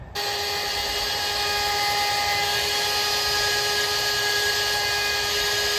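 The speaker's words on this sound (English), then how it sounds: "It's much easier to do it with a router." A router cuts a mortise into the end grain of a door edge for a flush bolt, starting abruptly and then holding a loud, steady high-pitched whine with a constant tone, close by and without a break.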